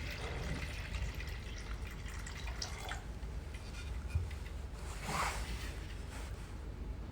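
Water filling the internal tank of a picosecond laser tattoo-removal machine, a steady low trickling and gurgling with occasional splashy swells, fairly faint and alone.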